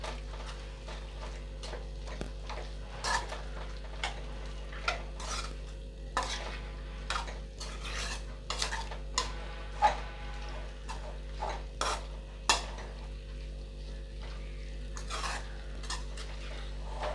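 Tirunelveli-style avial vegetables being stirred in a pot, a spoon scraping and clinking against the metal in irregular strokes over a low sizzle, close and fairly quiet, with no talking.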